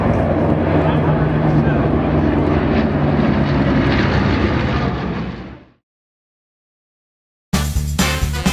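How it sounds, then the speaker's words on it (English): Twin Boeing B-29 bombers fly in at the EAA Oshkosh 2017 airshow, a loud, broad propeller-engine roar that fades out, then returns abruptly after a short gap, with voices faintly present. "As the twin B-29s came in"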